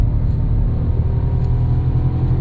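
A Skoda Kamiq engine drones at low pitch with a steady rumbling hum, close and constant, pulling under load up a steep hill at moderate speed.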